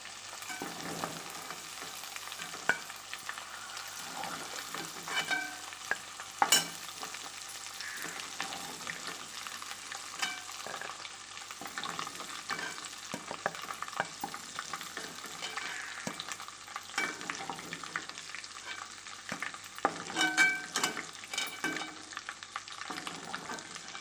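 Prawns fry in oil for a biryani, a soft continuous crackle and sizzle lasting the whole stretch, with occasional louder pops and a few stirring clinks, close by and unaccompanied by voices.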